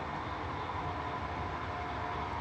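Transperth A-series electric train running steadily on the tracks near a bus depot and freight lines, a continuous close rumble with a faint whine and no distinct clacks or horn.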